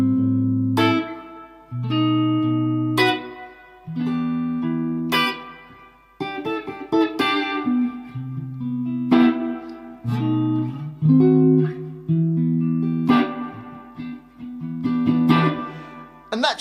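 A guitar plays the slow verse chord progression of a song, each chord strummed and left to ring for a second or two before the next, with no voices.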